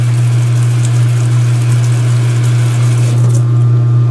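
A direct drive washing machine hums steadily and loudly as it gathers spin speed, its low motor drone constant with a slight rise toward the end, close by with no talk.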